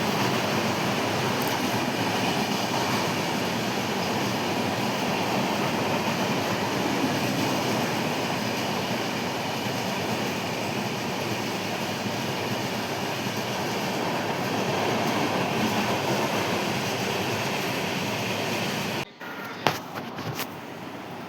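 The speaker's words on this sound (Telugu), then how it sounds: "Chennai to Howrah mail express వెళ్తుందండి." The Chennai–Howrah Mail Express passes through a station on platform 3, a loud continuous rumble of wagons rolling close by for about nineteen seconds before cutting off into quieter station sounds with a few knocks.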